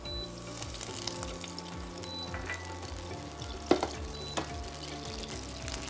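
Vinegar poured off the heat into hot, smoking mustard oil with green chillies, giving a steady close sizzle with a sharp burst of spitting near the middle and no talk.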